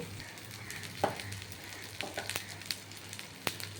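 Cumin seeds, garam masala and bay leaf sizzle in hot oil for a prawn curry: a steady close hiss with scattered sharp crackles and pops throughout.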